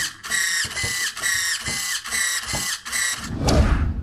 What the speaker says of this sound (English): just very quickly, one last look at the current servo it's got in it